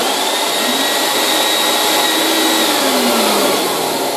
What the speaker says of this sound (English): a 2-speed remote control dust extractor